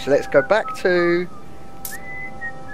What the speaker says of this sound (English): Stop fucking whistling.